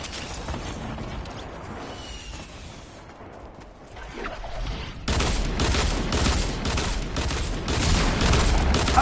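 Gunfire in the video game Fortnite, with a shotgun among the weapons: a quieter rumbling stretch followed by a sudden loud, dense barrage of shots and impacts that continues to the end.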